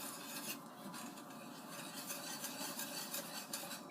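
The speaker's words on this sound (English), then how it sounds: "you're just going to whisk all this together" Dry hot chocolate mix with powdered milk being whisked together in a bowl, a soft continuous scratchy rustle with a gentle rhythmic stroke, quiet and close, with no talking.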